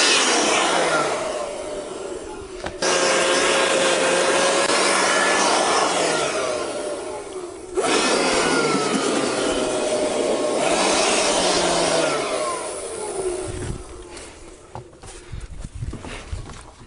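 Compressed air blasting across a cleaned windshield cutout on a 2014 Chevrolet Silverado, loud hissing bursts that run several seconds each, stop abruptly and restart, ending with scattered handling noises.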